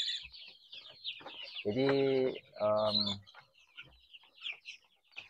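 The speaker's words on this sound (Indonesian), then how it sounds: "Mungkin saya hanya punya contoh ayam yang agak besar." Chickens kept on a farm cluck and call in two loud bursts, with softer chirping and clucks scattered around them, as someone says a word faintly.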